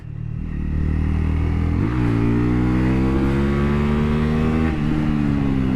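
A Honda CL 250 motorcycle pulls uphill in second gear, its engine droning steadily and rising in pitch under a full throttle, loud and close with a brief dip partway through as revs shift.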